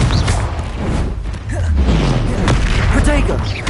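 A Confringo blasting spell explodes in Hogwarts Legacy: a loud low boom rolls out over a dense, busy game mix, with voices sounding over the blast.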